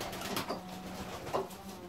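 Fancy pigeons in an aviary give soft, low cooing calls, with a couple of brief coos standing out over a quiet background.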